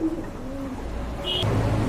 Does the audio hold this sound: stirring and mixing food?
no